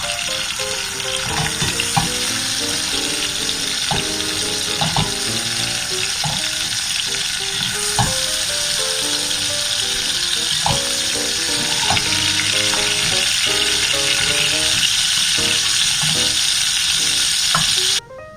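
Eggplant being stirred in a hot pot with its juices, steady loud sizzling and frying throughout, with repeated scraping clicks of the spoon against the pot, close and continuous with no talking.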